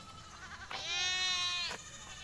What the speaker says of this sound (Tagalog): may mga kambing dito